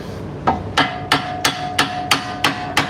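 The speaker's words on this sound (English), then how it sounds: "But now you could just tap it in." A hammer taps a part into the suspension of a Nissan Rogue, eight sharp metallic strikes in a steady rhythm, close and loud, with a faint ringing tone between hits.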